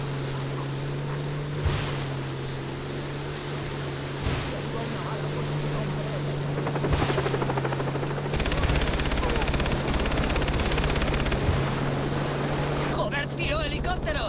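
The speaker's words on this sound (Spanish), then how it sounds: "¿Un helicóptero? ¿En serio?" Helicopter in the video game Far Cry 3, a droning rotor and engine roar that builds and grows louder midway, mixed with bursts of rapid gunfire and game sounds.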